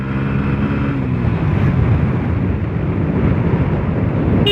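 A Bajaj Pulsar NS160 BS6 motorcycle with a modified stock exhaust rides along a quiet village road, giving a loud, steady engine drone mixed with wind rush.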